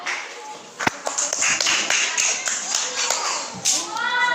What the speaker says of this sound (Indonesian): Semuanya kasih tepuk tangan.